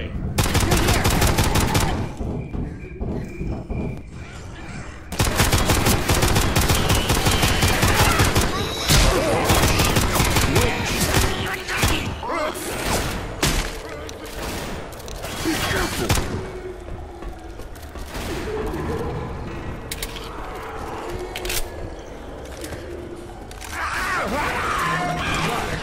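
The Left 4 Dead video game gives long, loud bursts of rapid automatic gunfire with thumps and brief pauses, dense and near, while game sounds play underneath.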